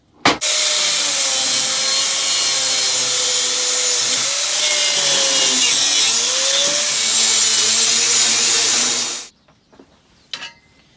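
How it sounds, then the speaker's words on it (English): An angle grinder cuts through a riveted steel motorcycle luggage rack for a Honda XR, a loud continuous high-pitched grinding whine with slight pitch dips as the load changes, running steadily for about nine seconds before stopping, followed by a few faint clanks. "get the grinder out and do a bit of cutting"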